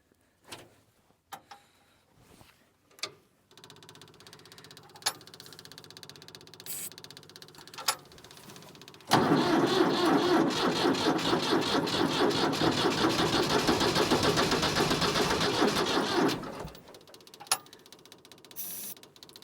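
A tractor engine cranks and starts in cold weather outdoors. After scattered clunks and knocks, a loud, rough running sound begins and holds for several seconds before dropping away, with no talking.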